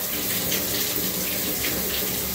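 A water tap runs steadily at a bathtub during a Great Dane puppy's bath, a constant close hiss and splash with no pauses.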